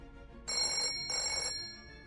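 A telephone ringing in a hospital, two short electronic bell rings separated by a brief pause, fairly clear against a quiet background.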